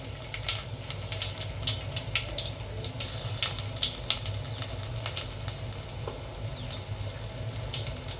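Chopped ginger and curry leaves sizzling in hot oil in a pan, a loud, continuous crackle with sharp pops and spatters scattered through it.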